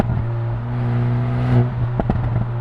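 A 2018 Jaguar F-Type with a 2-liter turbo engine drones steadily at close range, then a few sharp exhaust pops and crackles burst out near the end as the throttle is released on a downshift.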